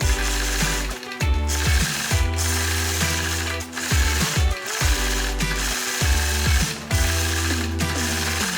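A sewing machine free-motion quilts snowflake designs across a 2-inch fabric strip, its needle running in a fast steady mechanical chatter that speeds up and slows down, with short pauses between bursts.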